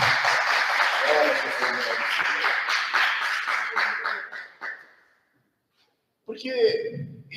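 A church congregation claps together for several seconds, loud and sustained, then the clapping tapers off into silence before a voice speaks again.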